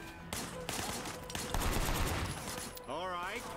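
Rapid bursts of video game gunfire from Sleeping Dogs crack in close succession, loud and dense. Near the end the shots give way to a voice speaking.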